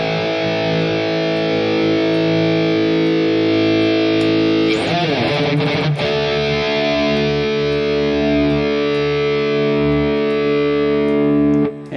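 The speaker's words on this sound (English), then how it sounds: "quite satisfied with the high gain tones which I dialed in here in the Harley Benton" A high-gain distorted electric guitar tone through a Harley Benton DNAfx Git Pro multi-effects unit plays sustained chords, briefly breaks into choppy muted strums in the middle, then rings out again with the same loud, saturated sound.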